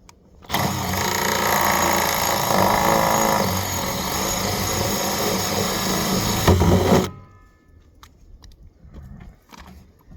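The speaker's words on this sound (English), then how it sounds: "let's go ahead and start drilling the holes for the bulkheads" A power drill whines steadily and loudly for several seconds, boring through a plastic barrel, then stops abruptly, leaving quiet background noise.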